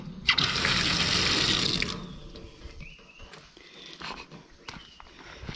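Water runs from a campsite sink tap, a steady loud gush that stops after about two seconds, followed by quieter clatter and faint ambient sounds of the campsite.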